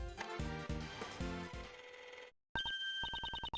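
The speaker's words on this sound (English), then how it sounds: "Judge Courtney's cell phone is ringing" A cell phone rings in the Nintendo DS game Ace Attorney Investigations 2, heard after a burst of game music and a brief silence as a loud, rapidly repeating electronic chirp.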